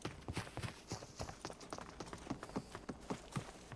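Footsteps in the battle royale game Super People, a quick run of sharp, evenly spaced steps close by, steady and fairly loud with no talking.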